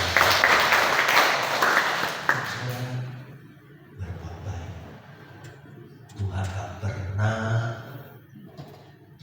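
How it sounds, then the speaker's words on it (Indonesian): Congregation applause at a church service, a burst of dense clapping at the start that drops off after a couple of seconds, followed by a preacher talking with a little background noise. "Kita berikan tepuk tangan."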